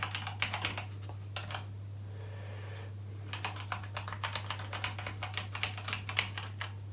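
Keys tapped on a Thomson TO9 computer keyboard in quick irregular clusters of clicks, with a short pause in the middle, over a steady low electrical hum and no talk.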